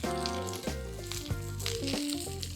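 Onions sizzling in a pan while cooking Mongolian lamb, a faint steady frying hiss with light crackle, heard under music with shifting tones.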